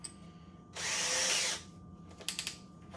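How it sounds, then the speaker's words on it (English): Hyper Tough 20V hammer drill in hammer mode driving a 1/4 inch masonry bit into a regular brick: one loud burst of under a second, then a few short clicks and rattles, no talk. "I'm going to start off with a 1/4 inch masonry bit. We'll do the hammer drill mode here."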